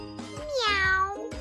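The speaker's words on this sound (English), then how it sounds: "That's a cat who meows." A single clear cat meow, drawn out and rising then falling, close and fairly loud with no one talking.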